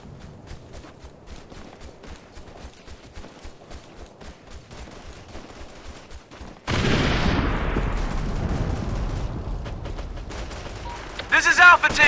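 Gunfire in the military shooter Operation Flashpoint Red River: sparse, rapid gunshots crackle at first, then heavy automatic fire and explosions erupt loud and close, with bursts hammering on through to the end.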